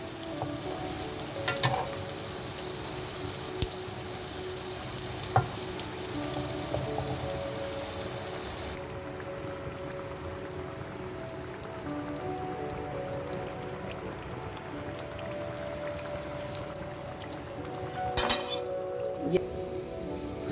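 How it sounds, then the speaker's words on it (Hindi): Mini potato samosas fry in oil over a low flame, a soft continuous sizzle with scattered light crackles and occasional clinks of a utensil. "ये हल्की आंच पे इसको तला जाएगा क्योंकि ये अंदर से कुक है"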